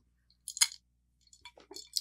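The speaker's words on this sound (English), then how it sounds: "I wouldn't recommend chewing ice on camera." Ice crunched between the teeth sounds as two short bursts of crisp, close cracking bites separated by a pause, quiet and alone.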